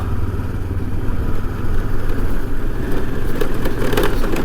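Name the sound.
motorcycle engine running uphill at high altitude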